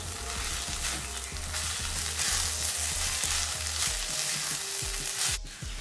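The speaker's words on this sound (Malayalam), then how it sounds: "കുറച്ച് കറിവേപ്പിലയും കൂടി ഇട്ടിട്ട് നന്നായിട്ടൊന്ന് മിക്സ് ചെയ്ത് നല്ലോണം വേവിച്ച് ഡ്രൈ ആക്കി എടുക്കാം" Brinjal thoran with curry leaves sizzles steadily in a pan while being stirred and dried out, a constant close frying hiss with occasional light scrapes and taps, ending in a brief clatter.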